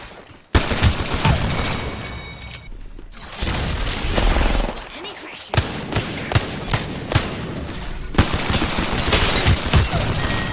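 Heavy bursts of gunfire from a first-person shooter match in Apex Legends, with loud, near, sustained automatic fire broken by brief pauses, shots cracking in dense rhythmic volleys.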